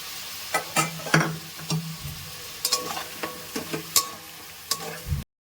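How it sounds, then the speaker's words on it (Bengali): Ginger garlic paste stir-fried in a pan with chicken pieces, a soft sizzle under repeated sharp scrapes and knocks of the spatula against the pan, close and uneven in rhythm. "এবার আমি এতে দিয়ে দিচ্ছি আদা রসুনের পেস্ট দিয়ে একটু ভালো করে কষিয়ে নেব"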